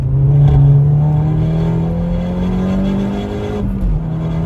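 A Seat Leon Cupra K1 (Mk2) at Oulton Park race track, heard from inside with a loud, droning engine note that climbs steadily in pitch under acceleration, then dips briefly near the end as the throttle lifts.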